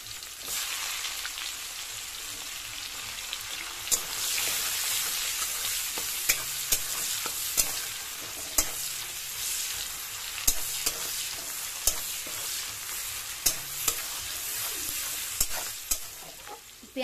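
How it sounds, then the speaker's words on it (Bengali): Chopped onions sizzling in a pan for a Bengali prawn malai curry, a steady soft frying hiss punctuated by sharp clicks and scrapes of stirring, close but fairly quiet, no voices. "একটু নাড়তে থাকবো। দিয়ে দিচ্ছি পেঁয়াজের কুচি"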